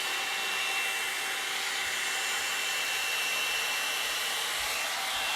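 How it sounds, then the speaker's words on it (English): A blow dryer runs steadily on short curly hair, a loud, continuous whirring rush of air that holds level for the whole stretch with no talking. "we're actually gonna do the other half of her head, which is the blow dryer"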